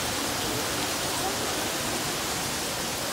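Steady, dense rain hisses continuously, a broad even wash of noise with no voices or breaks.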